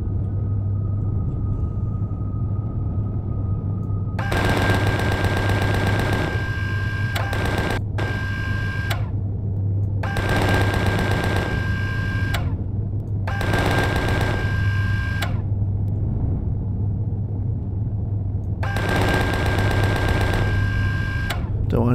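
Rapid automatic gunfire from a drone base mission in a video game comes in several long bursts over a constant low engine hum, loud and close, with short pauses between volleys.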